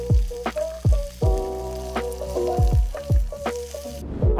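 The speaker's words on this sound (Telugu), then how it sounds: "ఒక 5 మినిట్స్ అవ్వగానే ఆనియన్స్ అండ్ కరివేపాకును యాడ్ చేసి కలపండి" Onions and curry leaves fry with spices in a hot pan for chicken Manchurian, giving a steady close sizzle broken by repeated sharp clanks of stirring throughout, with no talking.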